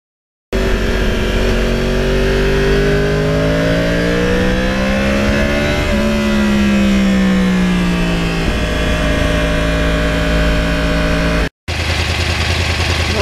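A 2009 Yamaha R1 with a crossplane engine pulls steadily while being ridden, its loud, continuous engine note rising and shifting in pitch through gear changes, then cutting briefly before resuming.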